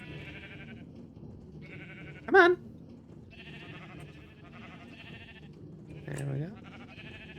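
Sheep on a farm bleat as they are pushed into a pen, with two loud, distinct bleats rising over a steady low background hum while a person speaks briefly nearby.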